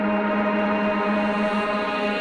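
A reversed shimmering reverb tail swells in a dense, bright wash of sustained tones, holding steady and alone throughout.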